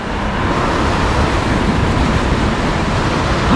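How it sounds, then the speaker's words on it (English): Steady roaring wind rushing past while riding a Varla Eagle One Pro electric scooter at high speed, a loud continuous broadband rush with no gaps. "Oh, there's a lot of wind coming towards me."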